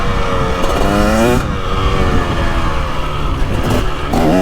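A 2023 KTM 300XC two-stroke dirt bike revs hard up close on an autumn ride in Ohio, its engine pitch climbing and falling in loud surging pulls.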